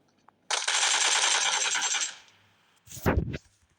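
A long automatic spray of gunfire in a shooting video game, about a second and a half of dense rapid shots, then a pause and a short sharp burst, with no talking.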